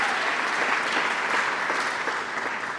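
Dense, steady applause from an audience honoring Dr. Kimberly Cline, the first woman president of Long Island University, at an educators' awards event, sustained at an even level with no voices over it.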